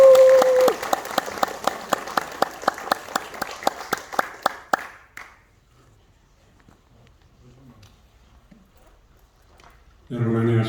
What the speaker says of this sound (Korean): 우리 목사님 환영하는 의미로 박수로